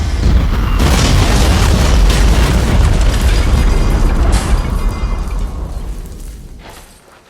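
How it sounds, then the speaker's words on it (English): A missile launch and explosion in a video game make a loud, deep boom that swells and rumbles for several seconds before slowly fading, with no talking. "Fox 1, missile away!"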